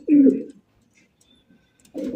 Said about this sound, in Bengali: সাদা ধবধবা একজোড়া কিং কবুতর